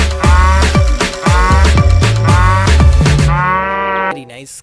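A big battery-operated toy cow lets out a loud, repeated mechanical moo over a rhythmic whirring toy motor, filling the clip up close before cutting off abruptly.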